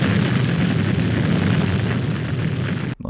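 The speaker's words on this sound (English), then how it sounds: "It's a nuclear bomb." A nuclear bomb detonation in a 1963 science-fiction TV episode roars as a loud, sustained low rumble that fills the whole clip before cutting off abruptly at the end.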